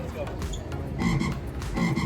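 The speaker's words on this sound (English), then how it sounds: "A frog! Exactly right!" A recorded frog croaks in rough, rhythmic pulses, two clear bursts of rasping calls in quick succession, fairly close and without talk over them.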